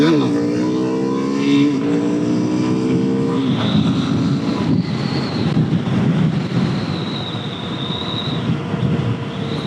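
A Suzuki DRZ400S motorcycle accelerates hard along a motorway, its engine note climbing through the gears before settling into a steady drone mixed with heavy wind rush.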